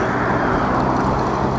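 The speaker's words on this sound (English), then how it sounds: "These cars are going to be coming at a pace that" Road traffic heard while riding a Super73 S2 electric bike, a loud continuous rush of vehicle and road noise with wind, close and steady throughout.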